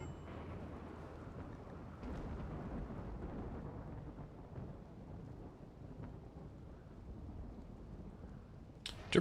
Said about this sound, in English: It's fine, it's raining.